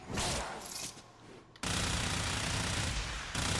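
Automatic gunfire from a weapon in the video game Warframe, a dense continuous stream of rapid shots that falters briefly and then resumes even faster and louder, close and unbroken.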